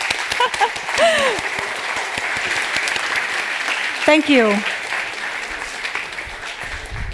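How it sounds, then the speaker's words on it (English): A warm round of applause fills a conference hall at a food sovereignty roundtable in Rotterdam, steady clapping from a seated audience throughout, with a presenter's voice speaking briefly over it near the start and again midway. "Warm round of applause"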